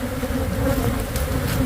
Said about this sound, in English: so those bees in that log are gonna eat the ground